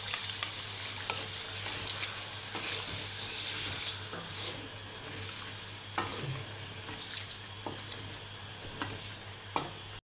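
Chicken korma frying in a pan after yogurt is added, a continuous close sizzle with occasional spoon scrapes and taps as the mixture is stirred, over a low steady hum, with no one speaking.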